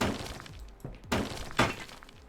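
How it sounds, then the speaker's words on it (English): Glass shattering in the video game Hotel Renovator, with two crisp breaking bursts about half a second apart over quieter clatter. "I thought I shattered the window for a moment."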